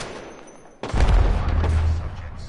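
Gunfire in an online shooter game: after a quiet moment, a sudden loud burst of rapid shots and booming impacts rolls on for over a second, then tails off, with no talk over it.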